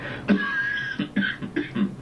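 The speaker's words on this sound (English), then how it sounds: "How long have you had that cough?" A person coughs several times in quick succession, loud and close, a short run of harsh bursts with no talking.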